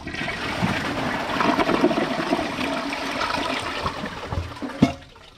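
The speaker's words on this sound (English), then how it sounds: "let's see how it flushes with the handle held down." A 2009 Kohler Wellworth Class 5 toilet flushes with its handle held down, a close, sustained rush and swirl of water that builds, surges with a gurgle near the end, then drops away quickly.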